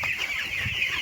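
Farm chickens cluck in a busy, overlapping commotion over feed, with steady close-up squawking throughout and no talk.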